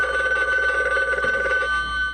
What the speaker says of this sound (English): What do you know? A phone call.